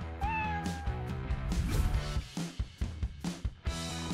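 A cartoon cat meows several times in quick succession over a busy backdrop of music and sound effects, the meows loud and close with a rising whine at the start.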